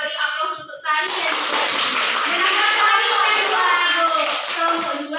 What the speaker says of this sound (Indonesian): Jadi kita beri aplaus untuk tadi ya.